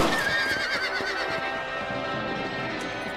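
A horse in Red Dead Redemption lets out a loud, close whinny, trailed by a faint clip-clop of hooves as the neigh fades.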